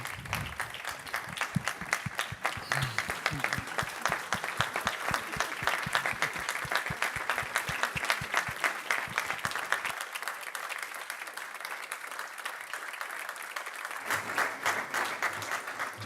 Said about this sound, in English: once more a big applause